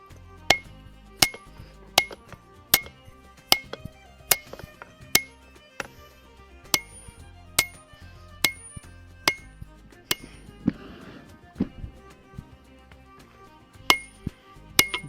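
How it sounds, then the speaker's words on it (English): A blacksmith's hammer strikes steel while forging a Viking war axe at an anvil, ringing sharp metallic blows in an irregular, roughly steady rhythm, with quieter taps and a brief scraping rustle between strikes. "You can see here I'm using the corner of my hammer, kind of like a cross peen almost."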